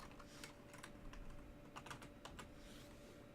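Quick, soft keyboard tapping on a computer during a Minecraft session, a short burst of light irregular clicks over a faint constant hum, with no talking.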